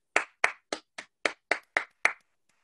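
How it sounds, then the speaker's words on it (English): A single pair of hands claps eight times at a steady, even pace from home, part of an online audience applauding a fifth-grader; each clap is close and sharp, followed by silence. "from your homes, from your computers, give Peyton a round of applause."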